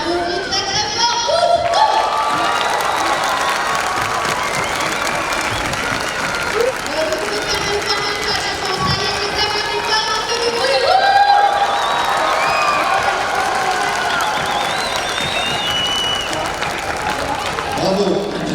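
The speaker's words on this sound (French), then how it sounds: "Et les applaudissements très très fort." Loud, sustained applause with cheers, whoops and excited shouts from a crowd at an award ceremony, with voices calling out over the clapping throughout.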